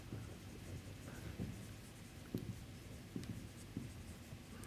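Pen or chalk writing out a formula during a statistics lecture, faint soft scratches and taps spread across a steady background hiss, close but quiet.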